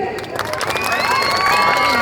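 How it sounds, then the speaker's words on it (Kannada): A crowd at the Honnavar festival claps and cheers, a dense roar of applause with whistles and shouts swelling and holding throughout, close and loud, with children's voices rising within it. "ಇನ್ನೊಂದ್ಸತಿ ಚಪ್ಪಾಳೆ ಬರಲಿ"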